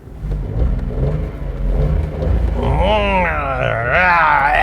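Budget three-cylinder engine from a Renault Kwid or Datsun Go revs hard up close, a gruff rising drone that climbs and dips in pitch with repeated throttle blips, loud and without talk.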